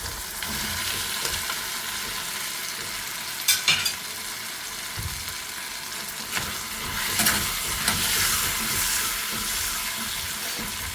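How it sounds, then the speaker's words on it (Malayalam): Plantain pieces frying in a pan with softened tomato, green chilli and garlic, a steady close sizzle with occasional stirring clatters and scrapes, no talking. "പഴം വറുക്കുക."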